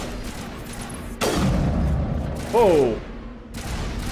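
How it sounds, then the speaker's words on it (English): Slow-moving rockets fire during combat in the Mass Effect video game: a sudden rushing burst followed by a brief whistling, warbling streak over steady game ambience, with a voice briefly exclaiming. "Those are some slow-moving rockets."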